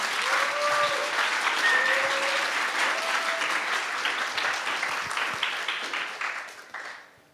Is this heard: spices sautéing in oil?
no